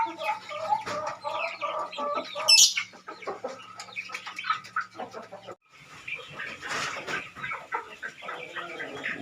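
Young Bangkok fighting-breed chickens, pullets around two and a half months and cockerels around five months old, cluck and chirp in a busy overlapping chorus with one sharp high squawk, close by and steady throughout.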